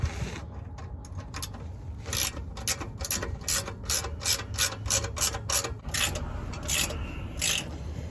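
A wrench ratchets as MBRP exhaust parts are tightened on a Ford Focus ST, giving repeated bursts of close metallic clicking in an uneven rhythm over a low background hum.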